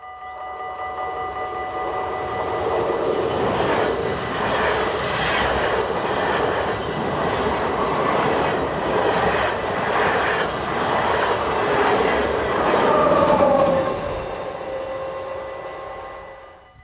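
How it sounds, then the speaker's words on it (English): Passenger train hauled by locomotive 1760 on the Venlo to Den Haag Central service rolls past just west of a station, a loud, steady rumble and clatter of wagons lasting throughout, swelling slightly near the end before fading. "locomotive number 1760 brings up the rear of this service from Venlo to Den Haag Central"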